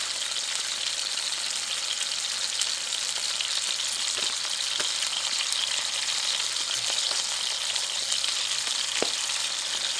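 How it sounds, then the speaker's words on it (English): Venison shanks sear in a hot pan, giving a steady, dense sizzle and crackle that runs unbroken throughout, with a few small pops and stirring clicks and no voices. "Now all we're going to be doing is searing these"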